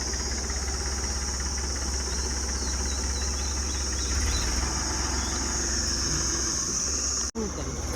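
A tractor fitted with a rotavator runs steadily nearby, a constant low rumble and drone, with a brief dropout near the end.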